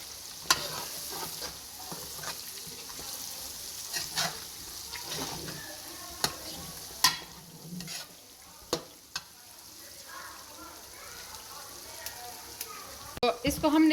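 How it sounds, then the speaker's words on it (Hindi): Onions and mixed masala frying in a pan for a chicken aloo biryani, a steady soft sizzle broken by sharp scraping and clinking stirs at irregular intervals, with faint speech mixed in. "तो इसको हमने थोड़ा सा फ्राई किया है और ये अच्छी तरह फ्राई हो चुका है।"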